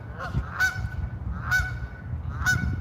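Three loud goose honks at roughly one-second intervals, each a brassy call standing out over a low rumbling background.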